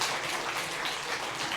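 Church congregation applauding during a worship service, a dense, steady wash of clapping that fills the space evenly for a moment, with no voices over it.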